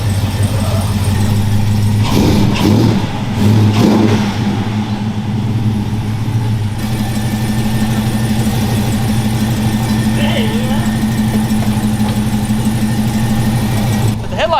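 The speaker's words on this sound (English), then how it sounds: "the 79 Trans Am Anniversary Edition with the LT4, it runs" A 1979 Trans Am Anniversary Edition with an LT4 engine runs loud and close, a steady deep idle with a few revving surges early on and a constant rumble underneath.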